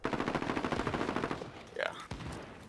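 Rapid automatic gunfire from a multiplayer video game rattles in quick, close bursts for over a second, then tapers into scattered shots and game effects.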